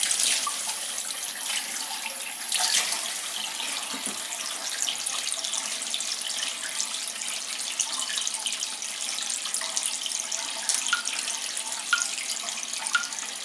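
Cold tap water runs steadily in a sink to rinse developed black and white film, a continuous close splashing hiss with a small clunk near the start and no talk.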